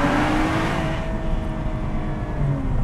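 A BMW M135i engine revs loudly and steadily up close in a short tunnel with the windows open, its roar filling the enclosed space with rumbling noise and a slowly shifting pitch.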